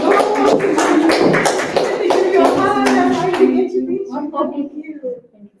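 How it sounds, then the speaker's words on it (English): Audience applause at an International Women's Day summit, dense clapping from a crowd that holds steady then thins and fades out near the end, with some voices mixed in. "A hand of applause."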